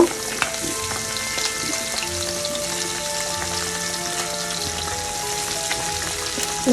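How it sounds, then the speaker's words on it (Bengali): Several pabda fish frying in hot oil, a continuous close sizzle with dense crackling and occasional pops, steady in level throughout without speech. "মাছগুলো আমি লাল লাল করে ভেজে নিব"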